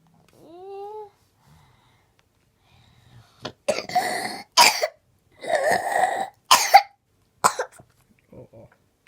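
A young child coughs several times in short bursts amid brief childish vocal sounds, with a high little voice heard at the start; close and fairly loud in a quiet room.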